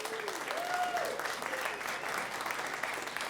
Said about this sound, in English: Let's stand up and let's give them a big round of applause